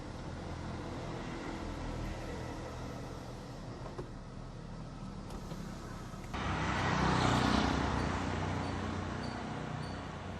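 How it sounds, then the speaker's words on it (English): A 2011 BMW X5 xDrive30d sunroof motoring closed, a steady mechanical whir near the microphone over cabin hum that shifts and grows louder partway through as the panel seals, with no talking. "let's close the roof"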